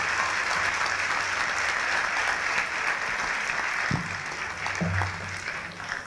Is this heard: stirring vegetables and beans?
no